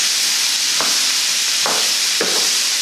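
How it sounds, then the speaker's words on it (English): Brussels sprouts sauteing in a pan and being stirred, a steady sizzle under three short scraping strokes of the spoon against the pan, close and moderately loud, with no talking. "all I have to do, is just to stir this for like 5 minutes."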